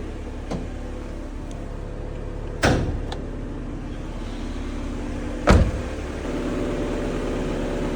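A 2000 Honda City engine runs at a steady, low idle hum, broken by two sharp clicks or thumps nearby.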